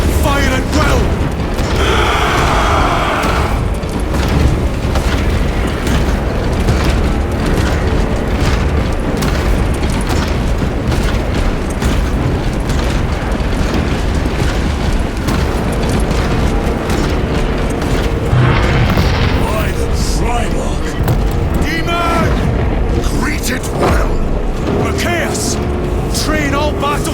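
Continuous heavy gunfire and booming explosions fill a Warhammer 40K Space Marine 2 battlefield, loud and dense throughout with mechanical clatter, while voices shout orders over the din.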